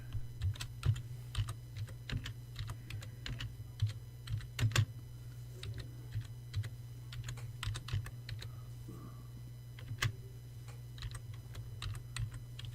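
Computer keyboard typing into a Google Docs window, with steady irregular key clicks and a few sharper strikes over a constant low electrical hum, alone and fairly quiet.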